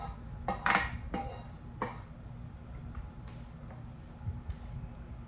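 Chicken and rice stir-fry being tipped into a pot, with sharp metallic clanks and clatters of pans and utensils bunched in the first two seconds, then lighter scattered taps over a low hum.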